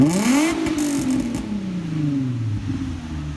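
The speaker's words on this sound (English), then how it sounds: "we started the car, we let it run for a second" A car engine cranks and catches during an oil change, its pitch rising then slowly settling into a steady idle with some rattling at the start, close and loud.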